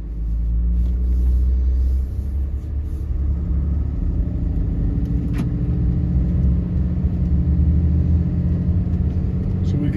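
A 6.7 Ram Cummins diesel truck pulls away from a driveway, its engine a steady deep rumble heard from inside the cab, loud and continuous.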